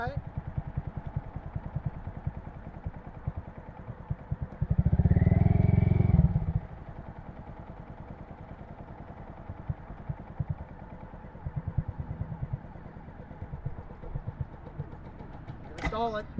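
A 2022 Honda Grom motorcycle putters unevenly at close range, then gives a loud burst of revving and drops back to rough low running before fading toward a stall, while people talk nearby.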